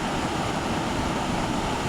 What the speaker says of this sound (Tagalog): Nahabol tayo guys ng alon.